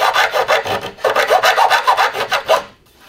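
A hand file rasps back and forth in quick, even strokes during a woodworking bench build, loud and close with no voices, then falls silent.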